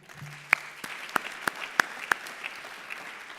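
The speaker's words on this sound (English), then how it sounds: "I want to ask all of us to give ourselves a round of applause" Attendees at an immigration conference in Washington, D.C. applaud themselves, a quiet bed of clapping punctuated by a handful of sharp, distinct claps close by.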